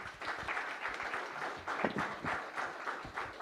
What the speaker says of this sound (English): please join me in applauding their effort